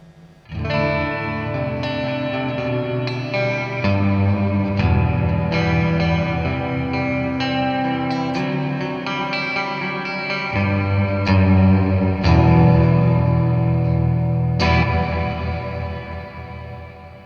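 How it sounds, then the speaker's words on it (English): Guitar played through the hall setting of a Joyo Ironman JF-317 Space Verb pedal, sustained chords and single notes blooming into a long, wide reverb wash, loud and continuous without any voices. "Next setting is the hall setting, which of course will give a little bit more of an echo."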